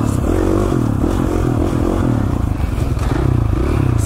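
A 450 four-stroke dirt bike engine thumps and revs steadily while riding single track, loud and near, with chassis clatter and dirt scraping underneath and no talking.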